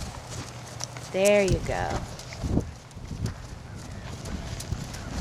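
A horse walking in an arena under a rider, with soft hoof clip-clops scattered through the clip, a voice speaking over them and a brief whinny-like call near the start.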